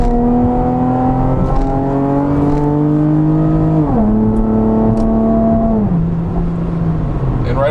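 A Camaro V6 with an MRT axle-back exhaust revs loud and close around 4,000 RPM under light to medium throttle, its droning tone climbing in steps with shifts as it accelerates.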